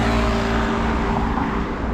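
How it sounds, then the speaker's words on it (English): Fast-moving road traffic on Estrada de Pac On in Taipa, Macau, a steady loud roar of passing cars with engine hum close by, no voices. "Lots of fast moving traffic on this side."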